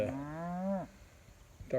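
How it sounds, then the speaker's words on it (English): A grazing herd of calves, cows and a bull: one long, loud, harmonic moo swells and falls close by, then another moo begins right at the end. "Calves, cows, bull, everything goes in and just starts"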